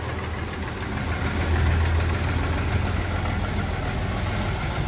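A 1990 HMT 3511 tractor engine idles steadily and close by, a low continuous rumble with a slight swell in loudness partway through, no voices over it.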